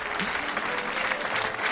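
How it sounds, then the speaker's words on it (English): Brief, full audience applause in a theatre, a steady wash of many hands clapping at moderate loudness with faint voices mixed in. "Round of applause, please"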